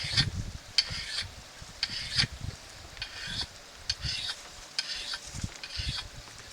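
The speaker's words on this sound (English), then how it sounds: "So I really don't have to do much other than stroke it with that diamond rod, and I can hear it." An axe edge is honed with a diamond rod, giving about nine rhythmic rasping strokes, each a short scraping swipe with a bright metallic edge, close up and evenly paced.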